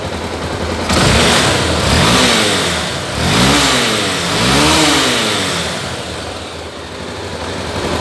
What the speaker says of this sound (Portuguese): Vou acelerar agora pra vocês verem